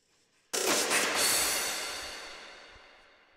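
Drum fill sample processed with EQ and heavy reverb: one sudden loud, bright wash that swells briefly and then decays slowly into a long airy, spacey tail, with no talk.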